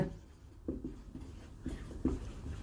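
Marker or chalk writing on a board during a classroom lesson, a few faint scratchy strokes and taps spread over a couple of seconds in a quiet room.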